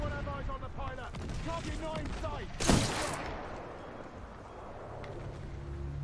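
Enemy gunfire in Titanfall 2, scattered bursts of shots with one loud sharp blast in the middle, mixed with other game noise while someone talks.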